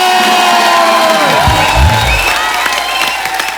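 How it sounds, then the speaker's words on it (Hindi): A studio audience at a Hindi comedy show, The Kapil Sharma Show, claps and cheers loudly and continuously, with whoops and shouts in the crowd throughout. "अरे बहुत कम तालियां, ज्यादा तालियां चाहिए आज।"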